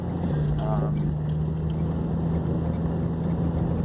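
A Jeep Cherokee XJ engine runs steadily while driving through a neighborhood, giving a loud constant drone with a low hum, and a voice talks over it.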